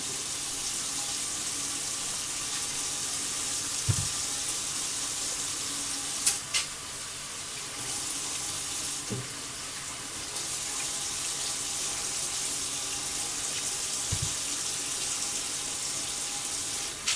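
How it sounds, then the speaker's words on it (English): A chuck roast browns in a pan with a constant, close sizzle and crackle, with a few faint knocks and clinks of utensils scattered throughout and no talking. "And I'm just browning the roast. I'm not cooking it all the way."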